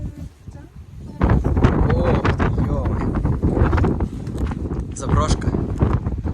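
Loud, blustery wind buffets the microphone in heavy gusts at Pniv Castle while someone talks and exclaims over it.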